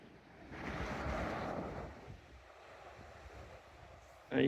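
Waves wash onto a beach beside a small local harbour on Nusa Penida, a soft, distant surf swell mixed with light wind, rising and easing, with a sudden louder rustle at the end.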